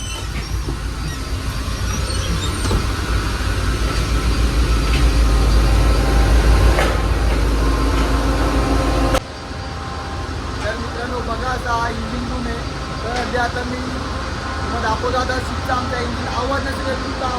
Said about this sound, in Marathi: आवाज येतो बघा इंजिन तर बघा असा इंजिन आहे